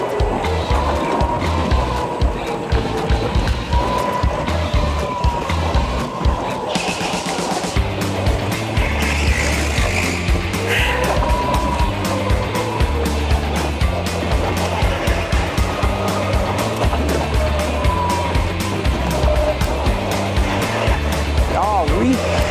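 Go-kart engines buzz steadily at a Tag E Karting track, a continuous close mechanical drone with rising and falling revs, while people talk over it throughout.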